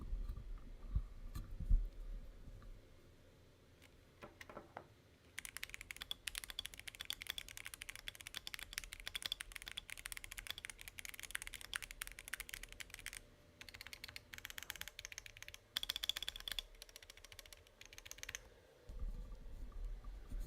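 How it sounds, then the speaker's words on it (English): Rapid typing on a Keychron mechanical keyboard: a dense run of crisp keystroke clicks that starts after a few quiet handling sounds, pauses briefly, then resumes and stops near the end. "let's just do a very quick typing test"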